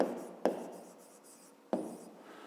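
Pen or pencil writing math by hand for a fifth-grade exercise, a steady close scratching with two sharp taps as the tip lands on the page, no voices.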